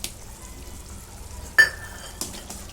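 Khoa dropped into palak paneer in a pan and stirred, quiet sizzling with a sharp scrape and clink of the spoon against the pan, then another brief scrape.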